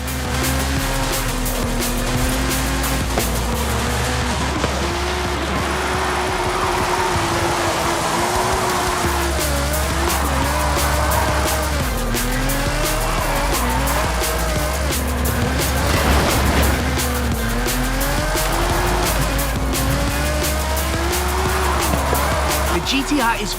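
An all-wheel-drive Nissan GTR drifts in the Forza Horizon 5 video game, its engine droning and tires squealing continuously throughout, while a voice talks over the action.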